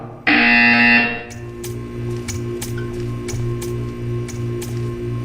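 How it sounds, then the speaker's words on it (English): A loud harsh buzzer blares for about a second, then gives way to a steady hum with rhythmic mechanical clicks repeating in the background. "When you hear the buzzer, stare at the art."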